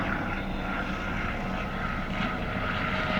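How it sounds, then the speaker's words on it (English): A helicopter passes overhead, its engine a steady, fairly faint drone held evenly for a few seconds with no talk over it. "Oh, it's a helicopter."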